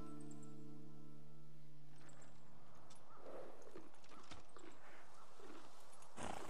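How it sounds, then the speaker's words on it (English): The horse Kage trots in Ghost of Tsushima, a steady clip-clop of hooves rising after a soft tonal hum fades, at moderate volume with no talk. "You're a good horse, Kage."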